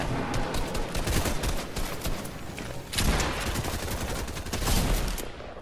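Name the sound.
SMG gunfire in Fortnite video game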